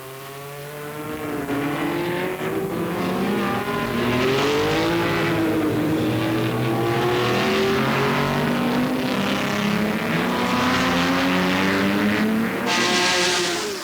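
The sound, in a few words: racing cars lapping the Montlhéry circuit at full throttle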